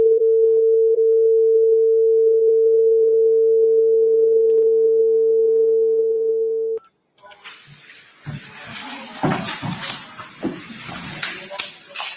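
A steady telephone dial tone hums loud and unbroken for about seven seconds while a call is placed to parents, then cuts off into muffled rustling and handling noise.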